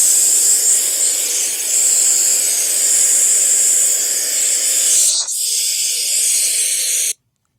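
Steady loud hiss of a pressure spray hosing down a truck trailer during a wash, continuous and close, with a brief dip near the end before it cuts off abruptly.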